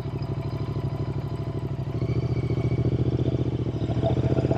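A custom Royal Enfield Interceptor 650 motorcycle rumbles along on the road with a steady, throbbing parallel-twin pulse that rises slightly in intensity as it rides, close and fairly loud, with no voices.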